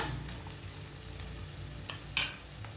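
Onions fry with a pinch of salt in a pan, a continuous close sizzle with faint stirring scrapes and a brief clatter near the end, no voices.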